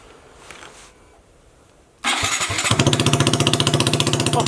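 A Honda Grom motorcycle fitted with a new exhaust starts up in a garage: a quiet lull, then a sudden loud crank and catch at about two seconds, settling into a close, rapid, throaty idle with a sharp pulsing rhythm.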